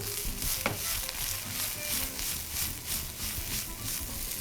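Carrots, cabbage, capsicum and onion stir-fry for vegetable noodles, giving a soft, continuous sizzle with rhythmic scraping and tossing strokes repeating through the clip.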